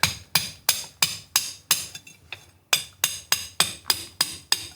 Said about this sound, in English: So I gotta chisel them out a little bit